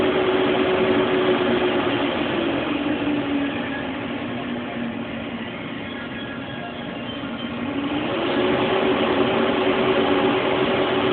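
A blower fan on a custom-fitted fireplace insert runs as a steady, close whirring hum, easing slightly lower in speed midway before rising again.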